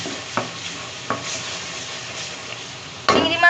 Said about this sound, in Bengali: এখন হালকা একটু নেড়েচেড়ে নিয়ে এর মধ্যে আমি চিংড়ি মাছগুলো দিয়ে দিচ্ছি।